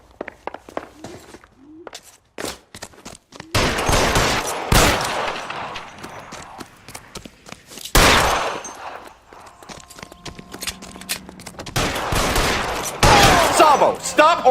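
Gunshots in the detective game L.A. Noire, scattered sharp loud cracks in several bursts with footsteps and tense shouted voices between them.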